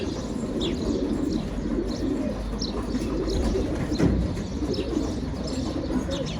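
A young pet pigeon out in the open air, with soft cooing and scattered chirps over steady outdoor noise, continuous and fairly close, with no voices.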